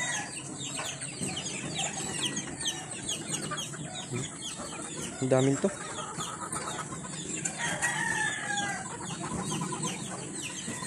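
Many fighting cocks on a farm cluck and crow in a dense, continuous mix, with a louder nearby call around the middle and a brief spoken remark.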